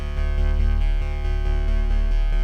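A loud, buzzy distorted Arturia PolyBrute 6 synthesizer plays a repeating pattern of rhythmic notes, thick and gritty with rich overtones, with no voices.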